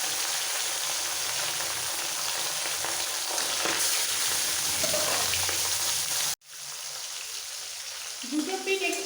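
Steady, dense sizzling of pomfret pieces frying in hot mustard oil fills the clip, briefly cutting out and resuming, with faint voices in the background.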